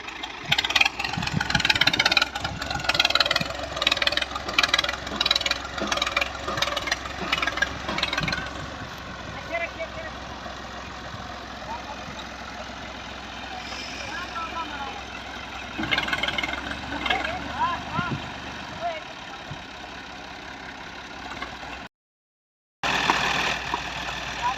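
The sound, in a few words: Ghazi tractor engine running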